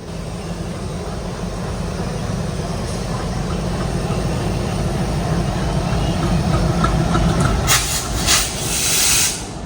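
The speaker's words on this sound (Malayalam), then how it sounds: "ഇത് ഷണ്ട് ചെയ്യുന്ന ആൽക്കോ ഉണ്ടോ, പഴയ ഒരു സാധനം തുരുമ്പിച്ച്" A steady low engine rumble with hiss from an old, rusty ALCO diesel shunting locomotive at Patna Junction runs throughout, swelling slightly near the end as a brief higher-pitched noise cuts in.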